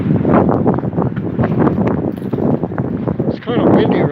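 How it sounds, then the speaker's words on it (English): Strong gusts of wind buffet a phone microphone outdoors on a street near a park, a loud continuous rumble with someone talking over it. "if you can hear the wind blowing on the phone, on the video"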